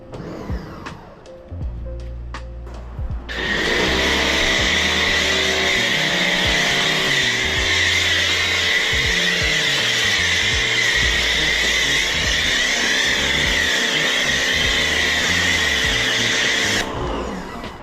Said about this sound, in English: Plus, I'm on a different power washer in the meantime.